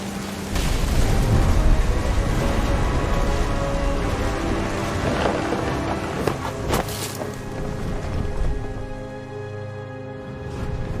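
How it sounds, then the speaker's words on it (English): Thunder rumbles with loud booms over steady heavy rain in the video game What Remains of Edith Finch, a continuous stormy wash with sharper cracks partway through and no talking. "The thunder sounded much too close and full of angry power."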